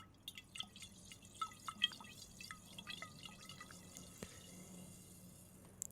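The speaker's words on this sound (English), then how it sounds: "hearing those fizzy bubbles make it very pleasing" Nearly flat soda fizzes with scattered tiny pops and crackles, irregular and faint, with no voices over several seconds.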